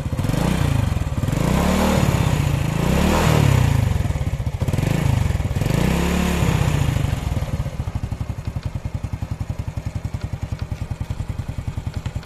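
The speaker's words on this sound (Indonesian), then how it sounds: "ada suara mesin jahit gitu. Ini dari pelatuk atau klepnya." A 2008 Honda Supra Fit motorcycle engine idling up close with a rapid, sewing-machine-like valve tick; a few throttle blips surge at first before it settles into steady, even chugging.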